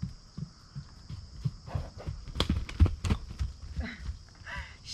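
Horse hooves clopping on the ground as a mare starts into a canter, a loose run of muffled thuds building in rhythm at close range, with some rustle and a faint murmur in the background.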